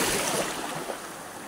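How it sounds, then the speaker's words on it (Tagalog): Sea waves wash steadily onto the shore at Caramoan beach, a continuous broadband surf roar that stays fairly loud and even throughout, with no voices. "Ang ganda ng dagat, oh."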